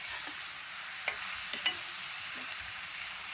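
Cashews fry in hot ghee with a faint, steady hiss, and a few soft stirring taps break through now and then. The whole is quiet and even.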